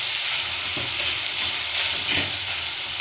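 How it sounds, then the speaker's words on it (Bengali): Mashed eggplant bharta fries and is stirred in a pan, making a dense, steady hiss of sizzling close by with faint scraping, and no voices. "এবার ভালো করে এটাকে ভেজে ভেজে নিতে হবে, কষি কষি।"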